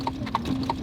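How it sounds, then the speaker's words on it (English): Horse hooves clip-clop in a steady, even rhythm as a horse pulls an Amish buggy on a road in an Amish community in the USA, three distinct strikes close by and fairly loud. "So you use a horse and buggy because you can't use any cars here, right?"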